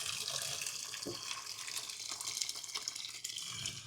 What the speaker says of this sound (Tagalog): Lagyan natin ng tubig na mainit.